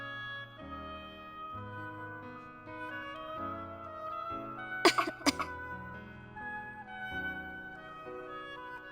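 A game character in Star Ocean: Till the End of Time coughs twice in quick succession, sharp and close, over soft sustained background music.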